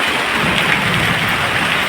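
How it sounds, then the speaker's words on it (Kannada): Heavy rain falls steadily during a stormy spell, a loud, dense, even hiss of water hitting surfaces nearby, continuous for a couple of seconds with no voices. "ಜೋರು ಮಳೆ ಬರ್ತಾ ಉಂಟು ನೋಡಿ ಅಂತೆ."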